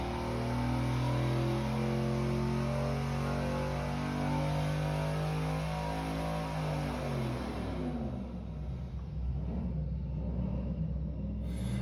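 A turbocharged 5.3-liter LS V8 engine running with a deep, steady droning rumble and sustained harmonic tones, loud and continuous, then settling into a rougher, noisier idle near the end.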